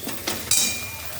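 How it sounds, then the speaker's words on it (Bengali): Water splashed into a pan of frying spice paste for a puti fish dish sets off a sudden loud sizzle that settles into a steady, fading hiss, after a couple of soft clinks. "জলটা দিয়ে দিয়েছি।"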